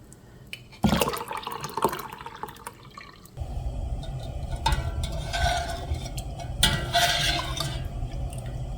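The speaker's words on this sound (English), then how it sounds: "I'll pour all the juice into the saucepan after I drain them." Hot pickling brine pours steadily into a saucepan in two bursts, with splashing and trickling close by and a brief pause between pours.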